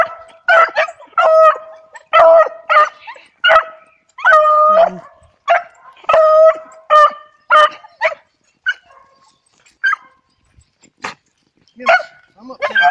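Hunting beagles in the field give a run of high whimpers, yips and short baying howls in uneven bursts with quiet gaps between, fairly close, and someone talks softly over them now and then.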